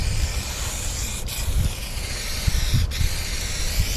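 Rust-oleum Turbo spray paint hisses steadily from a can onto a panel at close range, a continuous airy spray with two brief breaks between passes.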